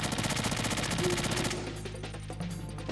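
Rapid automatic gunfire from Metal Gear Solid 2, a dense burst of close, loud shots for about a second and a half, then trailing off into scattered quieter shots and game ambience.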